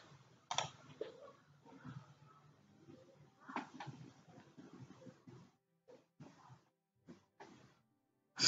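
A computer mouse clicks sharply a few times while software installs on a Windows PC. The clicks are close and isolated, spaced by quiet gaps, with faint low murmuring in between.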